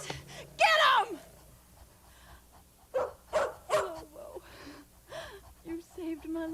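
Dogs bark in several sharp, close bursts, with whimpering yips between them, while people shout over the commotion.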